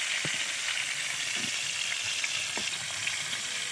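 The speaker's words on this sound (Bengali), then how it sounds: "এবার পটলগুলো তেলের উপর দিয়ে দিলাম একটু হালকা ভেজে নেওয়ার জন্য।" Sliced pointed gourd (potol) fries in hot oil in a home kitchen, a steady dense sizzle throughout, broken by a few soft knocks as the pieces are stirred around the pan; no one speaks.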